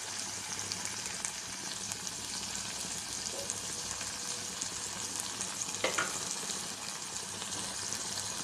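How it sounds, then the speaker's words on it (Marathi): Tomatoes cook in a pan for paneer frankie, a continuous soft sizzle with occasional stirring scrapes and a brief clink near the end, no talking. "हे बघा टमाटर सुद्धा आपण छान असा शिजवून घेऊया।"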